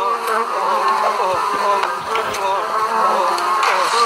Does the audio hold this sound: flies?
yes